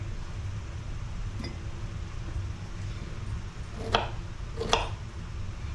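A knife slices through fresh garden pineapple, cutting it into strips; two crisp cuts land near the end, with a fainter one earlier, over a steady low background hum.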